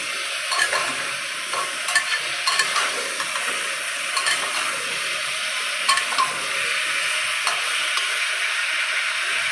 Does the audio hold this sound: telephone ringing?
no